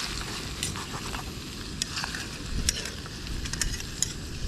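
Chorizo hash with potatoes sizzling in a camp pot on a bicycle-touring stove, frying steadily close up while a spoon scrapes and clicks through it in short irregular strokes.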